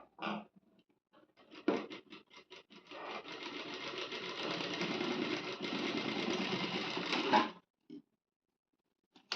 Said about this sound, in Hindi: इधर थोड़ा सा काम हुआ है, तो हमें मशीन थोड़ी सी ऐसी चलानी पड़ी।